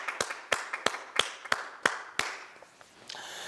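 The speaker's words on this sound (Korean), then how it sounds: "우리 하나님께 영광의 박수 드리겠습니다." A church congregation during a worship service giving a short burst of sharp claps, about seven distinct hits in quick succession, fading out.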